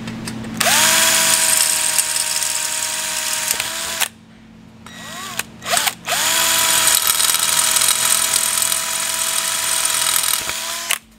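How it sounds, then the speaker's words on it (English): A power drill whines loudly in two long bursts, boring holes in an Allison 1000 transmission part, with a short pause between runs. "So we'll go ahead and drill these."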